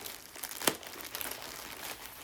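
A plastic bag holding an unboxed shawl swap parcel is cut open, producing close, quiet crinkling and rustling with one sharp snip or tear near the start.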